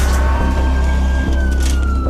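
Ambulance siren arriving with paramedics, a loud sustained wailing tone over heavy low engine rumble, close and continuous.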